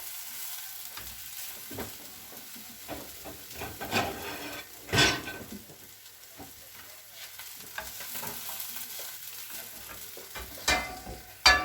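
Onions caramelizing in a pan for a reblochon tartiflette tart, a faint steady sizzle with intermittent scraping and stirring sounds.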